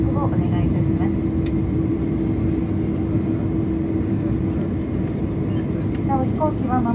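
An ANA 767-300ER taxis after landing at Fukuoka, heard from inside the cabin as a steady, loud engine and airframe hum. A cabin announcement plays over it throughout.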